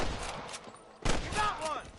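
Sniper gunfire during a shootout in Red Dead Redemption, with loud sharp shots cracking in bursts over a short stretch, one heavy blast standing out midway, and a voice briefly heard under the gunfire.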